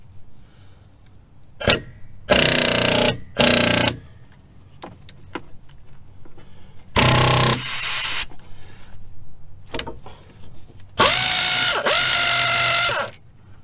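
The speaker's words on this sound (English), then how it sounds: "What a ratchet." A ratchet wrench clicks in quick bursts during a rear brake job on a Chevy Impala, with several loud close-up runs of ratcheting separated by pauses, small metallic clinks and handling noises.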